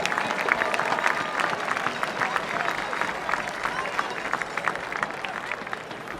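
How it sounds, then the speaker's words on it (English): Crowd in the stands at a Miamisburg versus Centerville high school game applauds the Miamisburg Viking Marching Band, a steady, even wash of clapping from a distance that continues alone. "One more round of applause for the Miamisburg Viking Marching Band."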